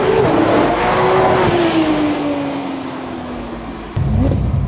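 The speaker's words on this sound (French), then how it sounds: "Ce moteur Porsche 6 cylindres à plat se caractérise par une déclinaison la plus pure." A Porsche GT3 RS flat-six engine with PDK gearbox roars loudly and close, its tone sliding steadily downward before a sudden renewed surge of power near the end, on roads around Roquebrune-Cap-Martin.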